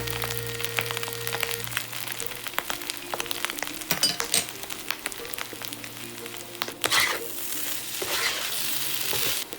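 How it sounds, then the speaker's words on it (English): Fried rice sizzles and crackles steadily in a hot pan, with intermittent scraping and clinking as it is stirred around, loud and close throughout. "just stir that around and let that fry for a couple of minutes"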